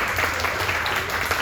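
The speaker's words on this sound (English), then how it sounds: "Get another round of applause." An audience applauds at a community networking event, a steady wash of dense clapping filling the short moment without pause.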